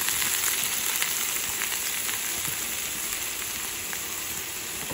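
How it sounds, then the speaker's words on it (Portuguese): Collard greens sizzling in a frying pan with onion, a steady bright hiss of frying that holds evenly throughout with no talking. "Agora eu vou colocar aqui a couve."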